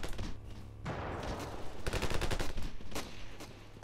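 Rapid gunfire from the video game Ravenfield, bursts of automatic shots and overlapping volleys crackling densely and fairly loud throughout, with a low steady game hum underneath.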